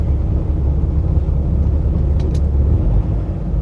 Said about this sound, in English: I idled a bit the truck